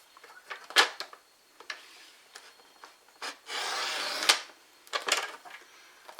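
Card stock is trimmed by a quarter inch on a paper trimmer, heard as a few short sliding cuts and clicks with a sustained scraping stretch in the middle, faint and close.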